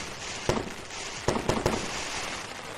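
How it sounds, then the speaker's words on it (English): Fireworks go off in the morning as four sharp cracks spaced unevenly, ringing out against a steady background hiss. "fireworks first thing this morning"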